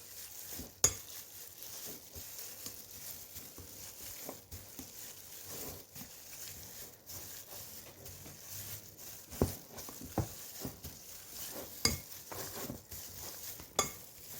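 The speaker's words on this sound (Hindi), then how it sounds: "पहले पोटैटो मैशर से आलूओं को मैश कर लीजिए" Boiled potatoes and bottle gourd being mashed by hand with a potato masher in a bowl for aloo lauki kebabs, giving soft irregular squishes and occasional sharp metal knocks against the bowl, close and quiet with no talking.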